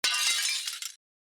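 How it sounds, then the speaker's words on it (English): A very old door with thin glass panes breaks and shatters in an 1890s farmhouse, a single loud, close crash of breaking glass that fades with a few scattered tinkles after about a second. "that is the sound of me breaking our door about 5 hours after moving in"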